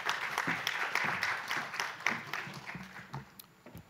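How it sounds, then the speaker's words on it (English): Audience applause fills a conference hall at the 57th ADB Annual Meeting e-mobility session: a dense, steady wash of many hands clapping close by, holding for about four seconds before thinning slightly. "Please, a round of applause for Ramesh."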